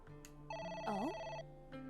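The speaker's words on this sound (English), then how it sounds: "It's the phone." A phone rings in AI: The Somnium Files, a steady electronic ringtone with layered harmonic tones and a brief warbling sweep in the middle, over soft background music.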